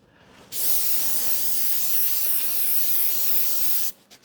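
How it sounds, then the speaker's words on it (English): A close, steady hiss of aerosol spray glue runs continuously for a few seconds, then cuts off abruptly, while upholstering a foot stool with 1-inch foam. "So again with the spray glue."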